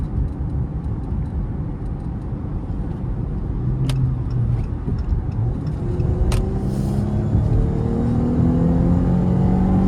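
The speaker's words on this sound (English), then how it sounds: "Damn, y'all hear that whine?" A Dodge Charger SXT with a V6 engine accelerating in traffic, heard from inside the car, with a loud low engine drone and rising whine that climbs steadily in pitch, plus occasional sharp clicks.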